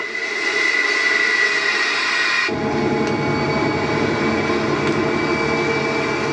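Military helicopters lift off during the Vietnam War with a loud, constant engine roar; the sound shifts abruptly partway through into a deeper, rougher rumble and stays loud and close throughout.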